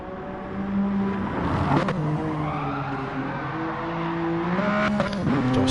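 A race car drifts in GT Sport, its engine droning and revving through shifting tones with tire squeal, steady and close throughout, without talk.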